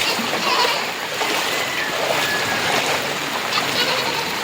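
Someone wades through knee-deep floodwater from a swollen river covering a village road in the Philippines, with continuous loud close splashing and rushing water throughout and a faint voice underneath.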